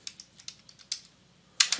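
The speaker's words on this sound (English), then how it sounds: "I'm just going to start typing as I would a normal note." Bursts of keystrokes on a computer keyboard while composing a note, quick irregular clicks in short clusters, close and fairly quiet, ending in a louder flurry.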